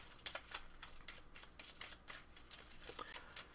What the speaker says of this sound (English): So you take both of these decks and you shuffle them.